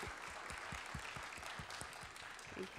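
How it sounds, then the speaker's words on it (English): An audience applauding a speaker after a talk on the poet Rumi, quiet and distant scattered clapping with individual claps standing out, fading slightly as it goes. "let's give our speaker a warm round of applause"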